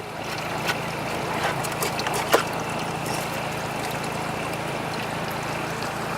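Water running through a highbanker gold-prospecting sluice to rinse it clean, a steady rushing, trickling flow close by with a few faint clanks and knocks.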